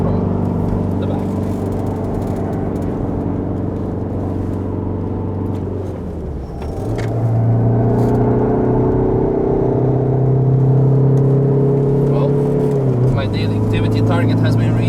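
A Volkswagen Golf drives past on the Nürburgring Nordschleife, a steady loud engine drone with a gear-change dip midway, then rising again, heard from inside another car with people talking.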